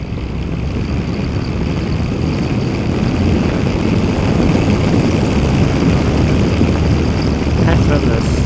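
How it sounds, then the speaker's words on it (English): A 1983 Honda CX650 Turbo, a fuel-injected 650cc turbocharged V-twin motorcycle, pulls under acceleration. Its loud, dense engine and rushing-air roar holds steady throughout, with a voice talking faintly beneath it. "It's only a 650cc V-twin. But when that turbo comes in,"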